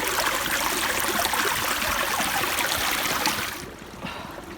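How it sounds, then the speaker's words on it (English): Water streams steadily through a camping filter into a water bottle on a windy mountaintop, a continuous close trickling rush that stops abruptly near the end. "I'm going to use this now, filter this into my water bottle, fill this up"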